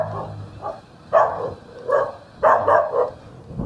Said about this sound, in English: Dogs right there.